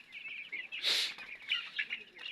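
Young chicks about eleven days old peep in a steady, high, chattering stream, close by, with one louder burst of calls near the middle.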